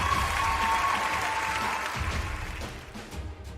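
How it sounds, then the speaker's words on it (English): An audience at a cybersecurity awards ceremony applauds the winners with sustained, fairly loud clapping that thins slightly toward the end. "A huge round of applause to all the winners."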